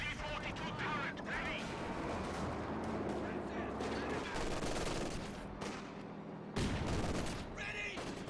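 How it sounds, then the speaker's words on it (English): Maxim machine gun and other small-arms fire in the World War II strategy game Company of Heroes 2, rapid crackling bursts and distant booms layered densely under a commentator's voice. "but he is going to get suppressed by this Maxim"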